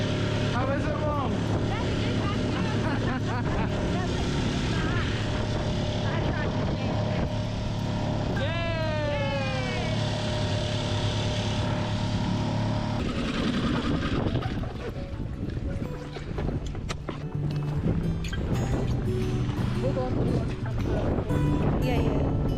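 Hangkai 6.5hp four-stroke outboard motor pushing a small boat on open water near Dunoon, a steady close-up drone under wind and splashing, with people talking over it at times.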